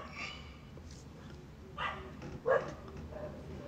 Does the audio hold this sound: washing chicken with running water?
no